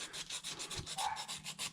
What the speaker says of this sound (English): Gonna move on to sandpaper now.